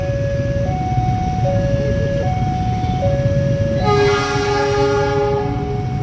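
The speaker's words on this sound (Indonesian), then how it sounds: "kereta Mutsel nih kayaknya guys, Mutiara Selatan. Dari stasiun Kiara Condong menuju stasiun Bandung." The Mutiara Selatan passenger train passes the Kiaracondong station level crossing, with loud, steady rumbling wheels and a stepped crossing bell or chime tone that shifts pitch, then a brighter horn-like chord sounding near the end.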